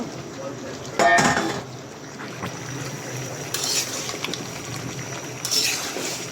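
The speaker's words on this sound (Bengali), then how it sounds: "এই যে এখন ফুলকপি দিয়ে দিব কষানো আলুর মধ্যে।" Cauliflower florets go into a pan of fried potatoes in a home kitchen, with clattering of a utensil against the pan and scraping stirs in short bursts over a soft background sizzle.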